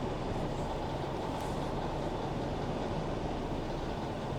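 A Jeep engine runs rough after an oil control valve cleaning, producing a constant low, dense rumble with no clear breaks, heard close and steady throughout.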